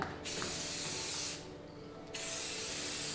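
Spray paint hissing steadily from an aerosol can while an X is marked on a wall before demolition, a continuous close hiss with one short pause midway.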